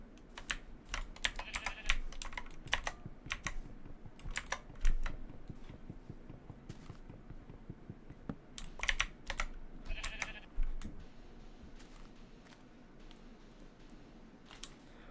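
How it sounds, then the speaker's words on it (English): Loud computer keyboard typing, a rapid clatter of keystrokes in bursts with short pauses, played close up during a Minecraft session with no talking. "Why is my keyboard really loud?"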